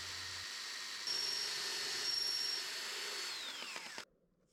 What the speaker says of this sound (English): Next I moved on to sharpening the ice pick.